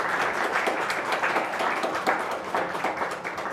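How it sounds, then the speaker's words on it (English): An audience at an MIT Reads talk gives a round of applause, a dense, even patter of many hands clapping that holds steady from start to finish. "Let's please give them a round of applause."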